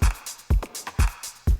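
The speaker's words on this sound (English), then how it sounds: "if we put that reverb out here, it's going to go on every single drum" Short electronic drum loop made in Ableton with reverb on every drum: punchy kicks about every half second with snare and hat hits in between, each tail washed out.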